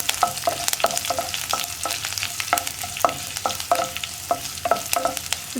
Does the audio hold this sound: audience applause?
no